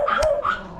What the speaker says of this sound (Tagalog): Madami din yung aso.